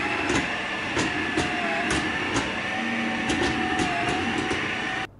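A Dyson V15 Submarine wet floor cleaner runs with a steady whining motor hum and a high tonal whine, plus repeated clicks and scrapes as it moves, then cuts off abruptly near the end.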